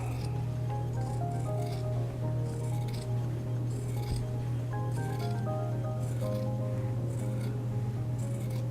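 Scissors trim away the fabric facing of a shirt front, a series of crisp, closely spaced snips recurring rhythmically over a low steady hum, with no talking.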